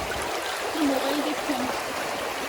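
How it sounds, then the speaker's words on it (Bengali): Fast-flowing river current at Sada Pathor in Bholaganj, Sylhet, rushing as a steady broadband wash, with voices talking over it. "কম সময়ের মধ্যে স্রোত অনেক বেড়ে গেছে"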